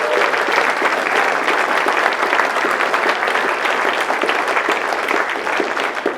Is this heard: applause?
yes